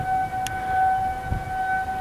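Civil defense tornado warning sirens sound during a storm in Lincoln, Nebraska, a steady distant wailing tone held throughout, with low rumbling wind noise underneath.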